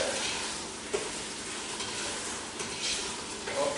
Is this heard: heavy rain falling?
no